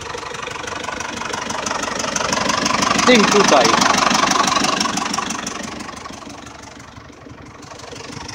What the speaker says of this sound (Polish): Zetora nie gasimy